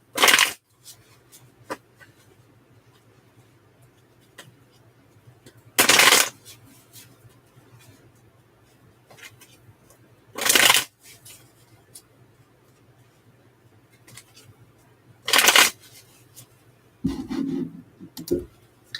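Tarot cards are shuffled in several short, crisp bursts spaced a few seconds apart, close and clear against a quiet room with a low steady hum.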